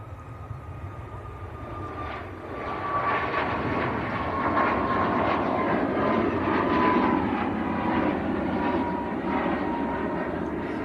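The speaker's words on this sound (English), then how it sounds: "Ryanair to Milan next to go." A Ryanair jet departs Manchester Airport bound for Milan, its engine roar rising after the first couple of seconds and holding as a broad, steady wash of noise at a moderate distance.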